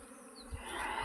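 Honeybees swarming around a bee box make a steady, close buzz, with a low thump partway through and the hum growing slightly louder toward the end.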